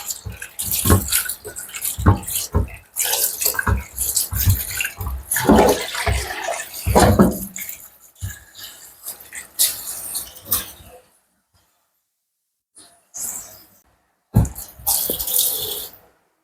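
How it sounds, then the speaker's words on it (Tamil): Running tap water splashes over fish being washed with turmeric in a room kitchen in Salalah, Oman, in bursts of close rushing and sloshing that pause, go silent, then return briefly. "மஞ்சத்தூள் போட்டு நல்லா கழுவணும் மீன்"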